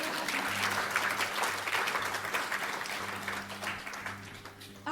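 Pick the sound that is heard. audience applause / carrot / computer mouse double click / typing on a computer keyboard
audience applause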